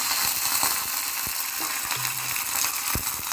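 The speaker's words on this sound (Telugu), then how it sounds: "ఇలా పోపు అనేది ఇలా వేసుకోవాలి." Tempering spices sizzle in hot oil for a ridge gourd chutney, a close, steady crackling hiss with small pops throughout.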